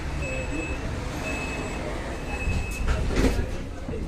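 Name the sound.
metro train arriving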